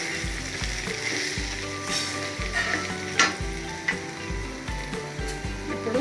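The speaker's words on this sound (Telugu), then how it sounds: "ఇప్పుడు రైస్ వేసేస్తాం. కప్పు రైస్ వేసేస్తాం." Cooked rice is tipped into a hot pan for coriander rice and sizzles quietly, with repeated rhythmic scraping and stirring strokes over a steady background fry.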